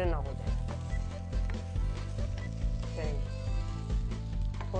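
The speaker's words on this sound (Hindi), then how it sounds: "सिरका डालने के बाद आप नगेट्स को थोड़ा सा और फ्राई करें जब तक वो बिल्कुल गोल्डन ना हो जाए" Chicken nuggets fry in a pan after white vinegar is added, giving a steady sizzle beneath music that plays throughout.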